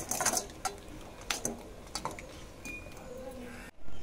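A cooking pot of crab with mixed vegetables and potatoes lifted off the stove, a few close metallic clinks and knocks at irregular intervals over a quiet kitchen background.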